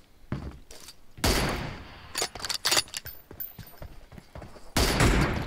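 Sniper fire with M24 bolt-action rifles in a PUBG Mobile team deathmatch, several loud sharp shots cracking in irregular succession with quieter impacts and clatter between them, close and dominant.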